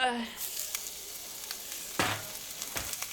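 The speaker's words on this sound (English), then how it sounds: "The meat should be good to slide onto the grill now" Steak sizzles as it is slid onto a grill, with a steady frying hiss punctuated by a few sharper crackles and pops, close and moderately loud with no talking.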